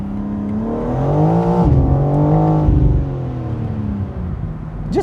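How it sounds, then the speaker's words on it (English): A BMW M4 Convertible's exhaust roars loudly and close with the top down, pitch climbing through gears with a brief dip near the middle, sustained throughout with no talking. "with the top down, you can just hear the exhaust so much better"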